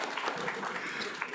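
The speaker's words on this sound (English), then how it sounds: "we should probably give ourselves a round of applause for having done a good job" A lecture audience at an astronomy talk gives a brief burst of applause, a soft, diffuse patter of many hands heard from a distance for just over a second.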